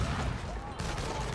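Rapid gunfire bursts from the PS4 game Infamous Second Son, loud and continuous through the clip, with a brief dip before the shooting resumes.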